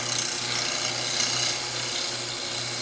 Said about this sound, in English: I'm going to use my old bowl gouge again,